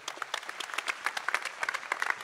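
An audience applauds at the Årets Kock 2016 semifinal prize ceremony in Helsingborg, crisp overlapping claps at moderate distance, fairly quiet and sustained throughout.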